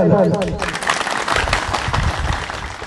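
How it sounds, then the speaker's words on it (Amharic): Audience applause at a veterans' commemoration ceremony in Shewa Robit, a dense, sustained clapping across the whole stretch, loud and close, with some voices mixed in. "እባካችሁ በሞራል እስቲ ጭብጨባ ይታለ።"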